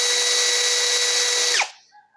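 A Tekiro XV 20V cordless brushless drill runs at a steady high whine for about a second and a half, then winds down quickly as the trigger is released, leaving a faint fading tail.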